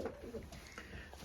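Racing pigeons in a loft of caged breeding pairs give soft, low cooing, close and continuous over a brief stretch.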